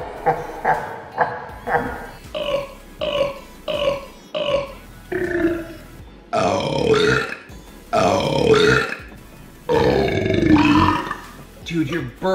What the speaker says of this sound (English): Dude, your burp smells so bad.